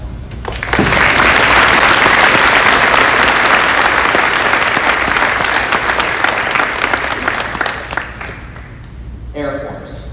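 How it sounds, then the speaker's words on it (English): Sustained loud applause from a crowd honoring veterans at a Veterans Day ceremony at St. Francis Borgia, steady for several seconds before thinning out near the end. "Let's give one round of applause."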